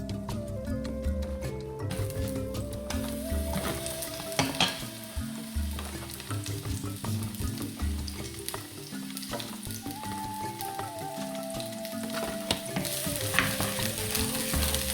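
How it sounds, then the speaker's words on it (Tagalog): Spring onions sizzle in hot oil in a pan, a constant close frying crackle with occasional stirring clatter, under steady background music and no talking. "once the oil is heated, I'm going to put spring onions."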